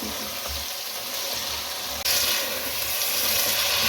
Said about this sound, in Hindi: अब इसे मिक्स करें ताकि मसाले इसके अंदर अच्छे तरीके से भून जाए।